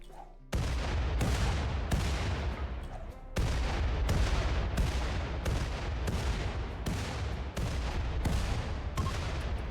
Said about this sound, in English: A few grenades later, and the sunblocker is destroyed.